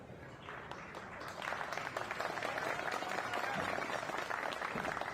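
Amateur pool players in the crowd at a 10-ball championship break into steady applause and murmured encouragement, moderately distant, building after the first second and holding for several seconds.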